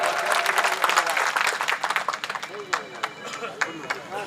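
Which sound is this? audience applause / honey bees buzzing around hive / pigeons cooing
audience applause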